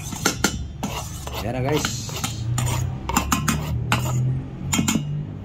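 A utensil mixes herbs in a bowl, making repeated sharp clinks and scrapes against the dish in irregular bursts, close and clear, while someone talks briefly over the clatter.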